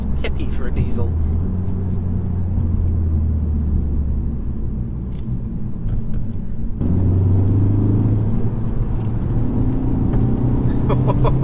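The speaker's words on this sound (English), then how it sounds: "for a diesel, it sounds fairly throaty" A 2016 Ford Focus ST-3 diesel hums with a low engine rumble while driving, its pitch climbing under load, then shifting after a gear change midway, with a voice talking over the cabin noise.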